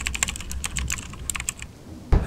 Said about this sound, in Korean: 핸드폰을 치는데 무슨 타자기 소리가 나죠?